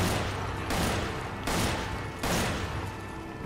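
Bursts of rapid gunfire from the video game Resident Evil 5 arrive in three dense, loud volleys, each cutting off abruptly before the next begins.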